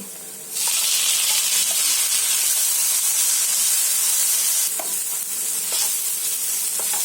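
Tomatoes hitting browned onion masala in hot oil for chicken changezi, a sudden loud sizzle that holds steady and close, with occasional spoon scrapes and clinks near the end.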